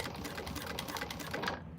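A sewing machine top stitches a quilted cactus piece, a quick, even mechanical chatter running close and fairly quiet for under two seconds, with no talking.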